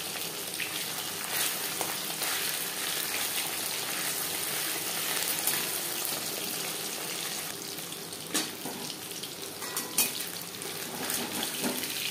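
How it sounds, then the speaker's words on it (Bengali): Pieces of bata fish frying in hot oil in a pan, a steady dense sizzle throughout with occasional sharper crackles and faint clinks, no voices. "একটা সাইড ভাজা হয়ে গেলে অপর সাইডটা উল্টে দেবে।"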